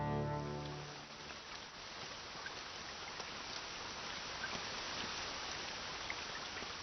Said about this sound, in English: The rainy season has arrived.